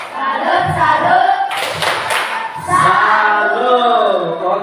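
A classroom group does a rhythmic salute clap, with sharp, loud bursts of hands clapping in unison in patterned beats, while voices chant together between and over the claps.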